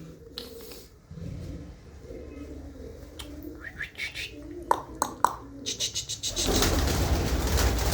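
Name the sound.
pigeons cooing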